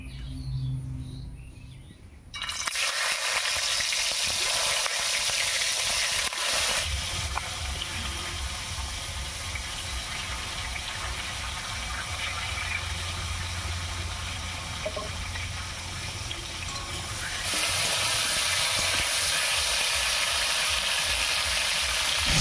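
Spiny gourd pieces frying in mustard oil in a wok, a steady loud sizzle and crackle that jumps in after a brief quiet start and swells slightly louder near the end, with no talking.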